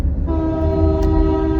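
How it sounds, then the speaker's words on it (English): A nearby train's horn blares in a sustained, steady multi-tone blast that starts just after the opening and holds to the end, over a low rumble of rolling railcars, heard from a waiting car. "I am trapped by trains during my lunch break here."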